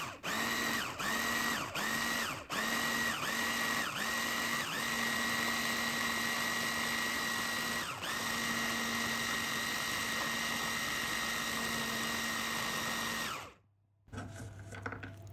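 A blender purées cooked lentils and white beans for vegan patties, giving a loud, steady high-pitched motor whine with a few brief pulses early on before cutting out near the end.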